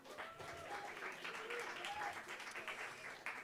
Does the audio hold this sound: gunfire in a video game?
no